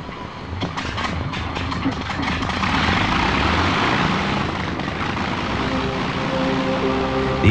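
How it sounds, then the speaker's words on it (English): A heavy, droning roar of Avro Lancaster bomber propeller engines fills the air, rumbling steadily and swelling slightly louder midway, with no talking. "the distinctive sound, of the AVRO Lancaster"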